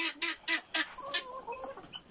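Hens in a backyard run with fresh grass give a string of five or six loud, close squawks in quick succession. Softer clucks and chatter trail off after them.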